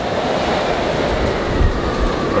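Hurricane Fiona in Puerto Rico roars as steady, dense storm wind and rushing water, a constant loud wash with no pauses or voices.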